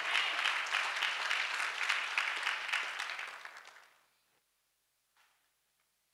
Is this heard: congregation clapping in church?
yes